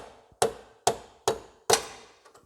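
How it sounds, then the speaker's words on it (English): Four heavy sledgehammer blows on an M8 coach bolt driven into a Rover 400 Tourer, evenly spaced sharp metallic strikes with short ringing decays, close and loud with no talking. "On there, sledgehammer."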